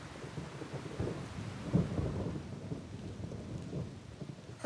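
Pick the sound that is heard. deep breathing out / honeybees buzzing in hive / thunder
thunder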